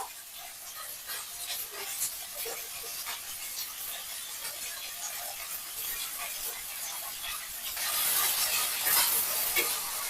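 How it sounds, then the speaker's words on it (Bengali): Fried rice stirred and tossed in a pan with sugar added, a steady close sizzle with scraping strokes throughout that grows louder and brighter near the end, no talking. "তো বন্ধুরা ভালো করে আমি নাড়াচাড়া করে নিচ্ছি"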